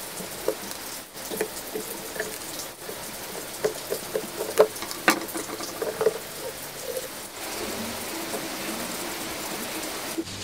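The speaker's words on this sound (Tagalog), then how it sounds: "medyo maingay sa labas kasi medyo malakas yung ulan" Heavy rain falls outdoors as a continuous hiss, heard from inside a room during a repair of a Bluetooth speaker, with scattered small clicks and taps over it.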